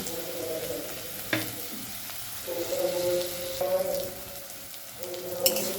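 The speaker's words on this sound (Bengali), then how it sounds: "ভালোভাবে একটু মশলাটা কষিয়ে নেব" Turmeric and chili powder fry with tomato in a pan, giving a continuous sizzle broken by occasional stirring scrapes and sharp clinks of a spoon against the metal.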